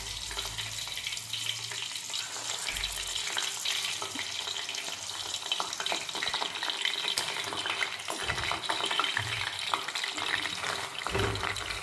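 Ten flowers frying in hot coconut oil give a steady, dense sizzle and crackle throughout, with faint stirring scrapes and no voices.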